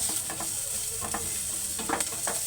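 Garlic and onion sautéing together in a pan: a steady, close sizzle with the repeated scrape of stirring throughout.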